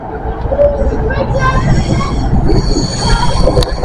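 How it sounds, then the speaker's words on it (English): A model railway train runs along its track with a loud, close rumble and bright metallic wheel squeals, while people talk over it. "The Edinburgh train."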